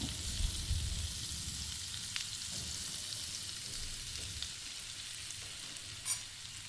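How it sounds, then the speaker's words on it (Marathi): Black pepper powder and makhana fry in melted butter, a continuous soft hiss and sizzle with occasional faint stirring scrapes, steady throughout. "बटर वितळलं की त्यात आपण मिरे पावडर टाकूया."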